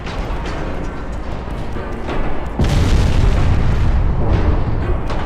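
Warship guns in Ultimate Admiral Dreadnoughts, a 1930s French campaign naval battle, boom heavily and rumble on in a loud, sustained barrage, with a sharp new blast partway through.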